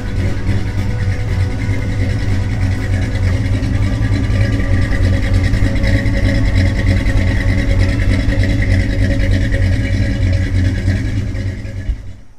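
A V8 car engine with a lopey cam idles with a loud, lumpy, uneven rumble, chopping rhythmically for a long stretch before dropping away at the end.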